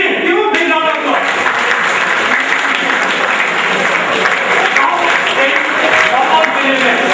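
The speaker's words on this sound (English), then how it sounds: "Give a big round of applause." A quiz show audience breaks into loud, sustained applause that fills the room evenly from start to finish, with a voice briefly audible under the clapping.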